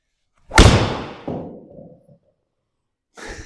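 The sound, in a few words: golf ball hit with a wooden driver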